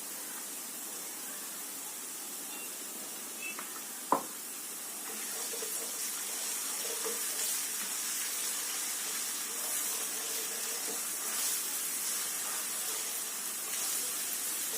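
Steady sizzling hiss of ginger garlic paste frying in a hot pan, growing slightly louder after a sharp clink partway through.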